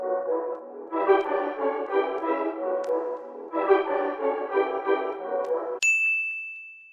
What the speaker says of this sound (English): I made a clone of the sample and pitched it down,